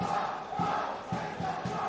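Football crowd in the stand at a Victorian NPL match between Heidelberg United and Green Gully, a sustained distant roar of cheering with rhythmic surges of chanting.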